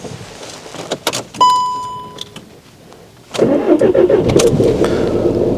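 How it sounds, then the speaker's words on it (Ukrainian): Skoda Fabia with a 1.0-litre engine: a few key clicks and a dashboard chime, then at about three seconds the starter catches quickly and the engine settles into a steady, close idle. "Зараз спробуємо автомобіль завести."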